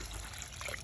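Water poured into chicken masala cooking in a pan, a brief soft steady trickle and splash close by, with no voices.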